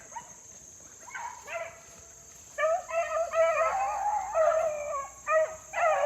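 Hunting dogs on a rabbit chase on a foggy morning, howling and baying in repeated bursts from a short distance over a steady background hum.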